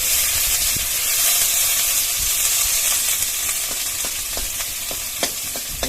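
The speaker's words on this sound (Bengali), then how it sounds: "উনুন ধরে কড়া বসিয়ে দিয়ে প্রথমে আগে উচ্ছেগুলো ভেজে নেবো" Bitter gourd frying in mustard oil in a hot wok, a loud steady sizzle with crackling pops and occasional stirring scrapes, heard close and without talk.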